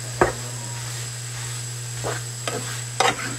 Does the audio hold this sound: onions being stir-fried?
yes